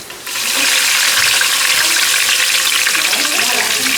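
Mustard and cumin seeds hitting hot oil, a sudden loud sizzle that jumps in and holds as a steady, crackling hiss at close range.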